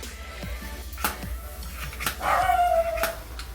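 A dog barks several times nearby in sharp, separate bursts spaced unevenly, with a brief high whine in between.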